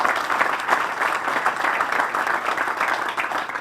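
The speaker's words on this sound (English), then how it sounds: "Let's give Judge a round of applause." An outdoor audience at a park groundbreaking ceremony claps for a judge, a moderately distant, steady patter of many hands with gentle swells and no voices.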